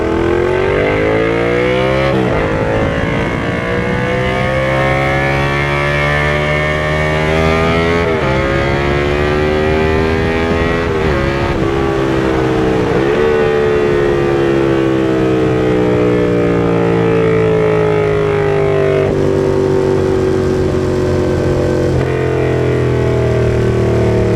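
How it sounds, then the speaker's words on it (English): Yamaha FZ-07 motorcycle fitted with a DanMoto XG-1 full exhaust with the baffle installed, revving loud and close with a raspy tone, rising and falling repeatedly as the throttle is worked, no talking. "Definitely raspier as well, since that exhaust is coming out of a smaller inlet."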